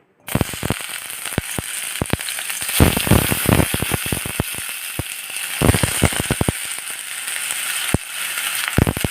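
Steady, busy sizzling of potatoes frying in hot coconut oil, with crackling pops and sharp snaps scattered throughout at fairly high volume.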